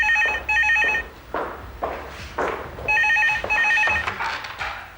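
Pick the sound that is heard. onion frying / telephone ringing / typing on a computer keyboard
telephone ringing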